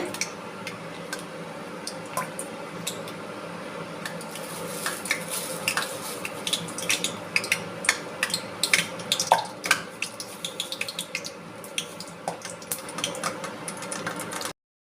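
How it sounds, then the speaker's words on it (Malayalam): Mustard seeds crackle in hot oil in a pan, a dense run of small sharp pops and ticks scattered steadily over a low background hiss, fairly close and without voices. "കടുക് നല്ലപോലെ പൊട്ടി വരട്ടെ."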